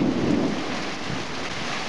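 Steady heavy rain with a low rumble of thunder early on, loud and continuous, no voices.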